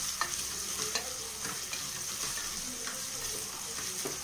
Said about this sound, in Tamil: வெங்காயம் நல்லா வதங்குச்சுன்னா நல்லா ப்ரௌன் கலர் ஆகிற வரைக்கும் வதக்கிக்கலாங்க.